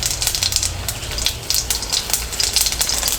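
Garlic and mustard seeds fry in a pan for banana tomato curry, a loud crackling sizzle with bursts of spattering pops coming in quick uneven waves.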